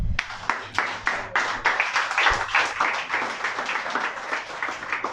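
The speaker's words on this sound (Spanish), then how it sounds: "denle un aplauso al Rey" A church congregation applauding after a sermon, a dense burst of many hands clapping with a few louder individual claps, steady and fairly close throughout.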